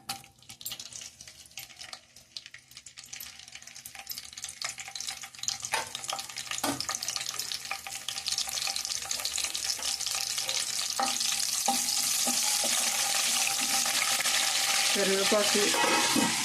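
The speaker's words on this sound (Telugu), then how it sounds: "మనం ఎండుమిరపకాయలు, కరివేపాకు కూడా వేసేసుకుందాం." Dried red chillies and curry leaves fry in hot oil for a chicken fry, a crackling sizzle that starts sparse and grows into a loud, dense spitting with scattered pops and clinks of the pan.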